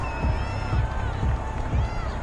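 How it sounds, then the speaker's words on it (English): Home crowd in a football video game cheering a referee's call, a broad steady roar with rhythmic low thumps beneath and a voice over it. "This home crowd, they're happy with that call."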